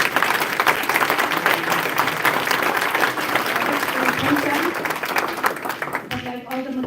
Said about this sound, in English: So can we just give them a round of applause